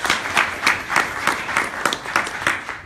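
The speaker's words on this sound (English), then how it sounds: "A big clap to yourself who are there" Applause from an audience at a parliamentary welcome event, a small group clapping in a slow, uneven rhythm for about three seconds, fairly close.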